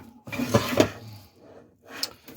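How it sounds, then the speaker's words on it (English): A piece of roast beef dropped into a ceramic slow cooker crock, a short close thud with clattery crockery knocks followed by a smaller clink, no talk. "We're going to drop it into the slow cooker there."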